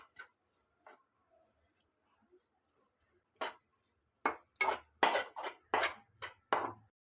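Masala being stirred in a pan for a Kerala-style nadan chicken roast, a handful of scraping and clinking strokes bunched toward the end, spaced by near silence, with no talk over them.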